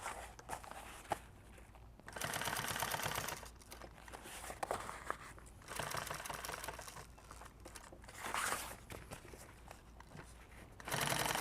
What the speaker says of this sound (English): I'm going to just go ahead and sew straight into it.